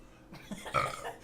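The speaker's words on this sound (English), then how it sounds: "First burp, all right." A single close burp after drinking cheap beer, a short throaty rumble that swells and fades within about a second, with no talk over it.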